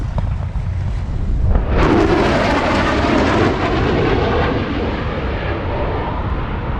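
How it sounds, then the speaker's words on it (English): An F/A-18 Super Hornet jet comes in to land at the 2024 Stuart Air Show, a loud continuous roar that swells sharply and then holds as a broad, rushing engine noise, heard alone. "A-18 Super Hornet coming in for landing, which will probably close out the Stuart Air Show for 2024."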